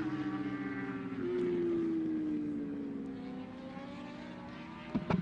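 Motorcycles race in the Alpe Adria Cup 1000 at the Pannonia Ring in Hungary, with one loud engine whining and rising in pitch as it passes close by, then easing off over a steady engine drone.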